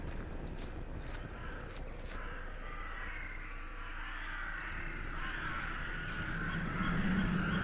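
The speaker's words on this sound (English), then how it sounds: "That is birds." Crows caw repeatedly in the video game The Last Door, their harsh calls spread across the clip over a steady, faint ambient wash with no one talking.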